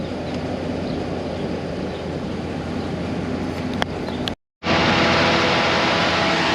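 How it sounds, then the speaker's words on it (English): Electric cooling fan on a Ram 1500 truck with 196,000 miles, a steady broad whooshing roar that cuts out briefly, then returns louder and stronger. "Okay, now you hear the fan. That's the fan you want to hear."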